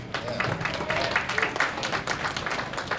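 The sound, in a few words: audience applause at convention panel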